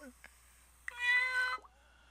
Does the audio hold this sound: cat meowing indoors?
yes